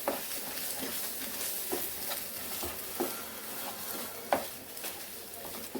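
Paratha ingredients stirred in a pan over low gas: a steady hiss of sizzling with a scraping spoon and soft intermittent taps against the pan, close and continuous with no talking.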